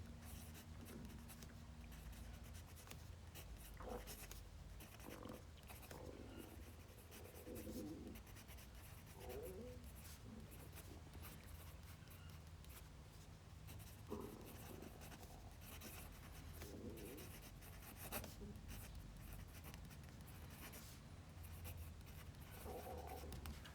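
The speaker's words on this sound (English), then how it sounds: "Let's just do my writing sample." A fountain pen writes a sample line with Diamine Brandy Snap ink, a faint, steady scratching of nib on paper with soft strokes and pauses against a low background hum.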